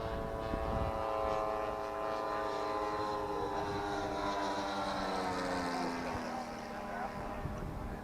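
An electric radio-controlled model airplane lands, its motor giving a steady humming whine that slowly shifts in pitch as it descends, heard at moderate distance with voices in the background.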